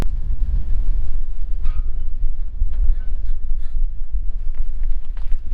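Strong wind blows outdoors at a friend's house, a loud, continuous low rumble buffeting the microphone for the whole stretch, with brief faint higher hisses and muffled sounds breaking through now and then.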